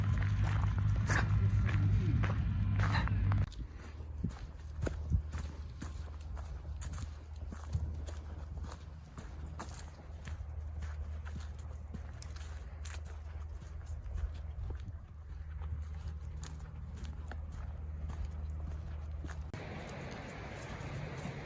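Steady horse hooves clip-clopping at a walking pace, fairly close, at Croft State Park, South Carolina, with a louder rumbling burst at the start and low outdoor background noise.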